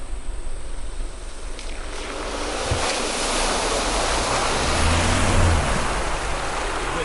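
Modified Isuzu MU-X 4WD pushes through a soft mud hole in Woondum National Park. A loud, steady engine roar mixes with sloshing water and mud that swells toward the middle and stays heavy to the end.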